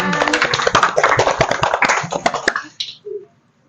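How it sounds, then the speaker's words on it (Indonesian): Brief burst of applause from a small talk-show audience, scattered claps that thin out and stop abruptly after a few seconds. "Kita boleh tepuk tangannya."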